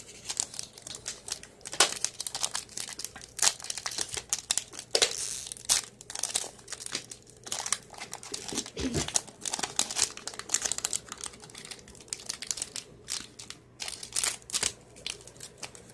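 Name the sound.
Pokemon cards being pulled out of a crinkly pack wrapper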